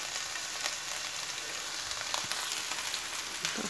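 Onions sizzling in a pan, a steady, faint, hiss-like frying noise that stays even throughout with no talk.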